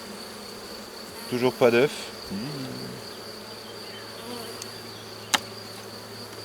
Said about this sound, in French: on voit qu'il y a quand même des abeilles dedans